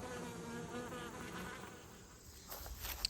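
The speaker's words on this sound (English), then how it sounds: "Bees are still trying to figure out how to get in." Honeybees buzz around a hive entrance fitted with an entrance reducer, making a close, steady hum of many overlapping wingbeats. Nobody talks over it.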